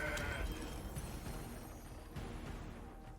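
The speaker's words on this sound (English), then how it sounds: "So we're gonna play this Mountain Goat." A digital goat bleat plays as a Mountain Goat card enters play in a video game, a faint, brief cry over quiet game background sound.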